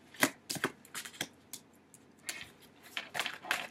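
Angel cards being shuffled for a tarot reading, crisp riffling and slapping bursts close by, separated by short quiet gaps, with no talking.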